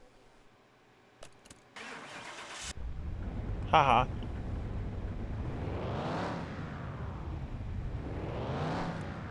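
In a car-building video game, a car engine cranks and catches, then revs up in two long rising-and-falling sweeps, loud and close, while a person laughs briefly.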